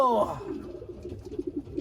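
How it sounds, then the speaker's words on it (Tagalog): A pigeon coos softly, low throaty murmurs repeating through the clip after a brief higher call at the start. "Ibon yan parehas ni Albert Quiado."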